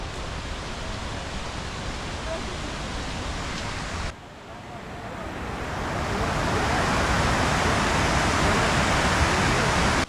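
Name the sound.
waterfall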